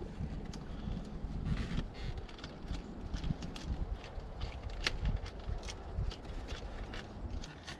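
Gusty wind buffets the microphone outdoors, producing continuous rumbling with irregular loud thumps and crackles.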